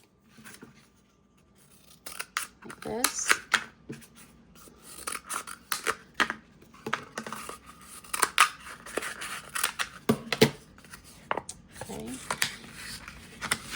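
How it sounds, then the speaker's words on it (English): Scissors snipping through cardboard tubes in repeated close crunching cuts, with a person talking briefly over the work. "just open them up with my scissors"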